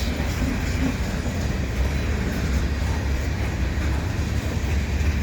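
A Canadian Pacific freight train with container cars rumbles steadily past a station in winter at close range, a continuous heavy roll of wheels and cars with no break.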